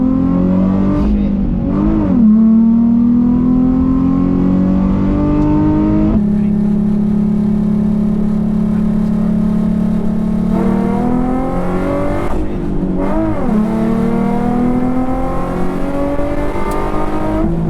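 A drift car's engine, running in second gear, revs hard and accelerates in long rising pulls, dropping back between shifts before climbing again, loud and close throughout with no talk.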